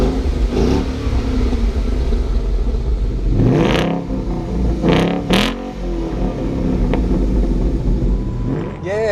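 A Ford Falcon fitted with a Roush quad tip axle-back exhaust revs loudly and close by, with a steady engine rumble broken by several sharp rising revs in the middle of the clip.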